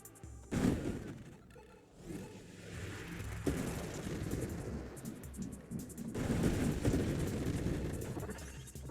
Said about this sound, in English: Don't really like those guys shooting at me.